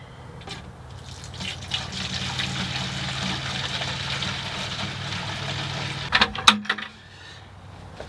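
Water pouring steadily from a new watering can inside a greenhouse: a continuous splashing trickle lasting several seconds, then a brief louder spatter as the flow ends, close by with no talking.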